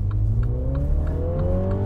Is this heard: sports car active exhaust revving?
yes